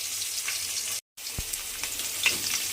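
Fish pieces frying on one side in a pan over lowered gas flame, a steady close sizzle and hiss with a brief cut near the start and a few soft clinks, no talking.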